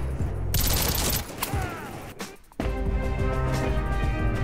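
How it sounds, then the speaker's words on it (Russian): A machine gun fired in a World War themed video game, bursts of rapid loud gunfire with a short pause and ringing tail before firing resumes. "Вот, так что этот пулемет еще себя покажет"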